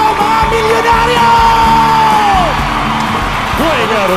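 A packed arena crowd at a boxing event in Araneta Coliseum yells and whoops loudly and continuously, a dense roar with individual shouts rising above it.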